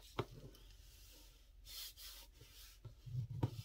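Folded paper is creased with a bone folder in quiet, close rubbing strokes, a few soft scraping passes with brief taps between them.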